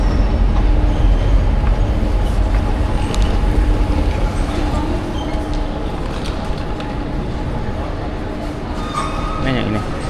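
A train runs along rails in Barcelona, a continuous rumbling roar with faint wheel squeals and clicks throughout, heard from inside while people talk over it.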